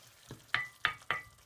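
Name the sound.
butternut squash being stirred and cooked in a big pot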